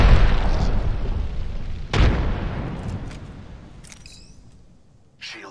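A frag grenade explosion in Apex Legends gives a deep rumbling boom, then a sharp second blast that fades over several seconds, with faint game chirps and no speech.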